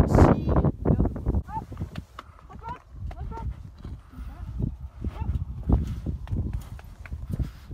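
Horses walk during a sheep roundup at Réttir in Iceland, their hooves giving uneven clip-clop knocks close by, with people talking over them throughout.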